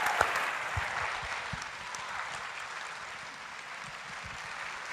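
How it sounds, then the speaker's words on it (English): A large audience applauds a panel at the close of the 2013 Isaac Asimov Memorial Debate, a sustained dense patter of clapping that fades slightly toward the end. "give us one last round of applause for the panel"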